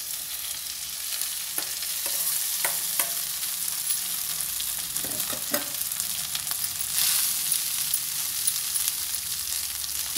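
Rice is tipped into a frying pan with turmeric and stirred, giving a steady close sizzle with scattered scraping spoon clicks throughout, no talking, while onion chitranna is being made.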